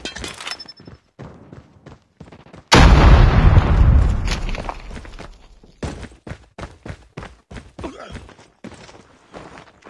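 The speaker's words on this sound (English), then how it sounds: "Grenade out!" A grenade blast in the Call of Duty Mobile shooter game, one loud booming burst that rolls off over a couple of seconds, followed by a rapid run of sharp gunshots and footstep-like clicks.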